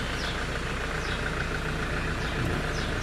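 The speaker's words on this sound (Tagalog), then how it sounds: "Yung makina nga natin pala yun" A 2.5 engine idles nearby, giving a steady low mechanical hum with a faint regular pulse that stays even throughout.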